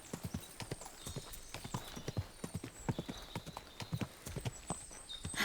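Horse hooves clip-clop steadily in Kingdom Come: Deliverance II, a quick, even rhythm of close, crisp hoofbeats that continues without a break.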